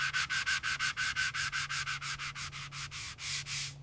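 Filler on an old Vespa scooter being restored gets sanded by hand in quick, even back-and-forth strokes, about five per second, close and clear with a faint steady hum beneath and no talking.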